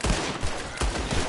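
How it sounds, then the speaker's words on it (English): Gunfire in Red Dead Redemption 2 during a shootout from behind a tree, several loud close shots cracking in quick succession with echoing tails, no talking. "I'm gonna hide behind this tree and open fire."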